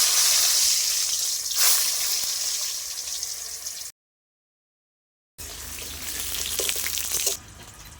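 Potatoes fry in hot oil for egg biryani, giving a loud, steady, dense sizzle that stops abruptly into a brief silence and then resumes just as strongly.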